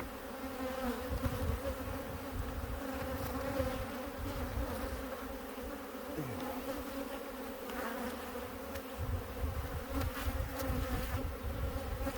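Carniolan honey bees buzz steadily in an open hive, a dense continuous drone of many wings close up with individual bees whining past now and then, no voices.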